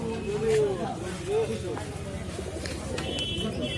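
Pigeons coo in soft, repeated rolling calls at a busy pigeon market in Singair, rising over a steady bed of crowd chatter and general market noise.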